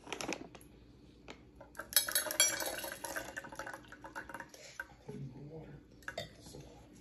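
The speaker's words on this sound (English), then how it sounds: "we're gonna add about half a handful of popcorn kernels" Popcorn kernels, about half a handful, poured into a bottle of water, making a scatter of sharp glassy clinks and rattles, bursty and close, with some splashing and handling sounds in between.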